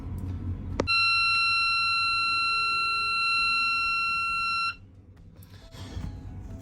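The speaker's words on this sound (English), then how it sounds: "still have an alarm showing, and still can't turn it off from the panel" A boat's alarm panel gives a loud, steady electronic tone that holds for about four seconds and then cuts off, with a sharp click at its start and low background rumble throughout.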